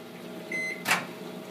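A microwave oven hums quietly with a brief high tone, then a sharp burst of crackling as a plasma ball flares inside, followed by the steady hum again.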